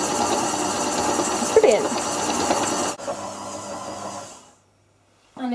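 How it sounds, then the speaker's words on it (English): Sage Scraper Mixer creaming butter and sugar, a steady whirring motor hum with rhythmic scraping that runs for about four seconds and then stops, with a brief spoken remark over it. "you can see the mixer in action, and it really is scraping down the edges as it goes"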